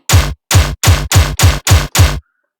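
A synthesized tearout gun sound made in Sytrus with chorus off: seven punchy bursts fire in a quick regular rhythm, each a dense, gritty metallic blast with a heavy low thump, then silence.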